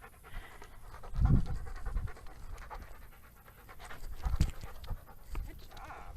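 An Australian Shepherd pants rapidly and audibly close by, rhythmic breathy huffs that swell and fade in bursts, with a little scratching and no one talking.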